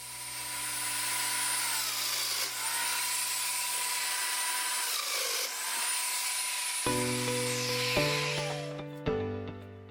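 A domino joiner cuts mortises into white oak boards, its motor droning steadily and close by for several seconds before the whine cuts off, followed by a few brief mechanical hums and clicks.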